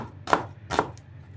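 Two crisp knife chops through an onion on a cutting board, close and evenly spaced, ahead of cooking menemen.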